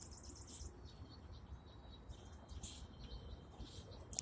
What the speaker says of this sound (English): Y'all hear it going, doo-doo-doo. I mean, it's so loud.